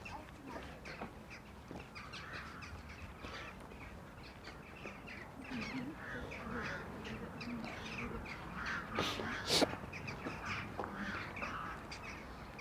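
Wild birds, not ravens, call repeatedly during a nature walk through Döbling, Vienna, with scattered chirps and caws over steady outdoor background noise and a brief louder burst near the end.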